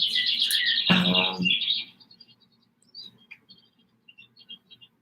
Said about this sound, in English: like an outdoor track that has birds on it